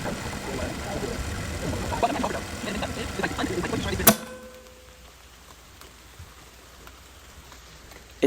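Steady rain heard from beside a kitchen window on Thanksgiving morning, a dense patter of drops that runs for about four seconds before falling to a faint, quiet background hiss.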